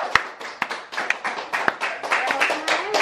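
A few people clap their hands in scattered, uneven bursts, some slaps sharp and close, with light tapping and voices mixed in among the claps.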